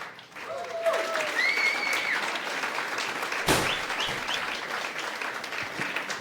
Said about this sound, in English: So please give them a big, big round of applause.